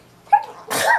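A single quick sneeze, close and fairly loud, begins with a short intake and ends in a breathy, noisy burst within about a second.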